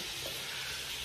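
Fresh salted chicken wings fry in a pan with a steady, close hiss of sizzling oil and no other sounds over it.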